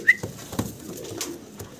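A red-eyed male pigeon coos in a cage beside its mate, giving a few short low coos with a brief whistle-like note near the start, close and fairly clear.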